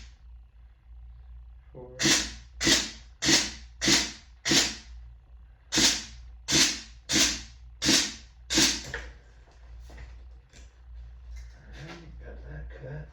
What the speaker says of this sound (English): Got my nice little handy pneumatic cutter here.